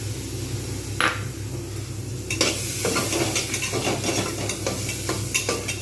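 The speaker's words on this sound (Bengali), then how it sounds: "তাই আমি এর মধ্যে আদা রসুন পেস্টটা দিয়ে দেবো। একটুখানি নাড়বো" Ginger garlic paste frying in a pan sizzles softly as a spoon stirs and scrapes against the metal, with scattered clinks over a low hum.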